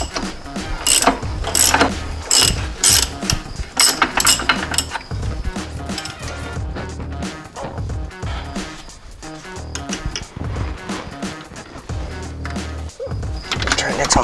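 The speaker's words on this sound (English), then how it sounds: "you need a long socket to access it" A ratchet with a long socket works on an ATV rear shock mount bolt, giving rapid close clicking in fast bursts mixed with metallic clinks and rattles across the whole stretch.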